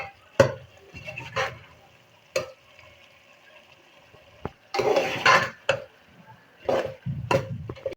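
Spices being stirred and roasted in a pot for a daal keema dish, with intermittent scrapes and clinks of a utensil against metal and a soft sizzle underneath, close and moderately loud, no talking.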